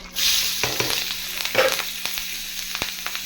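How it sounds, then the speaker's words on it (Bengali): Green chillies and onions hit hot oil with a loud, close sizzle that carries on as a steady frying hiss, broken by a few sharp crackles and spoon scrapes. "দিয়ে দিচ্ছি কাঁচা লঙ্কা আর পেঁয়াজ।"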